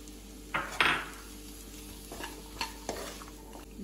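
Boiled chickpeas and chopped capsicum stirred in a pan for capsicum rice, a few distinct scraping strokes and spoon knocks over a faint low sizzle, close and moderately loud with no voices.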